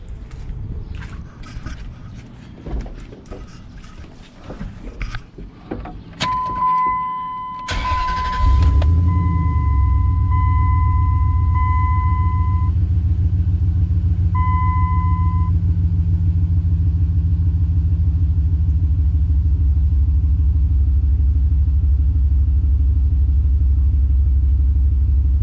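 A car engine cranks briefly, then catches and settles into a steady, loud idle after new coil packs have been fitted, with a short high whine during the start-up.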